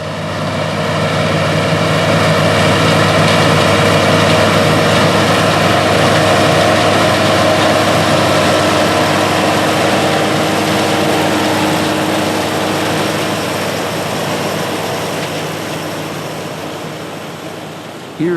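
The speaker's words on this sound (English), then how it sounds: "a 90 PTO horsepower Oliver 1850 LP tractor pulling an Oliver 83 NR corn picker" A 90 PTO horsepower Oliver 1850 LP tractor pulls an Oliver 83 NR corn picker through a field. Its heavy engine drones loud and steady throughout, easing off slightly toward the end. No one talks.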